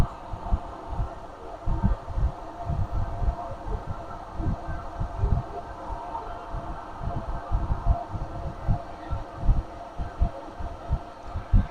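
A 6 kVA generator runs steadily, its low engine throb pulsing in a continuous rhythm with a constant hum, moderately close and alone.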